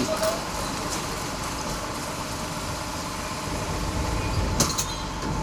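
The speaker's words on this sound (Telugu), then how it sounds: "కోరుకొండ బస్టాండ్ నుండి ఇప్పుడే మన బస్ బయలుదేరింది." An APSRTC Super Luxury bus pulls away from the small Korukonda bus stand, its engine a steady low rumble heard from inside the bus, with a person talking over it.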